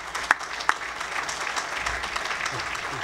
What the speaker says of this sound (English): So can we give them a pretty special round of applause?